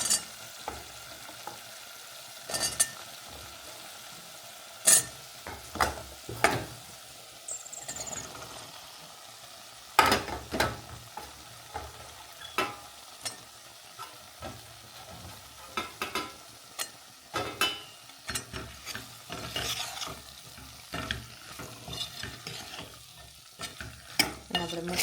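Capsicum peppers stirred and frying in a spice masala in a home kitchen pan, steady sizzle under repeated sharp scraping clinks of a spoon against the pan, no talking.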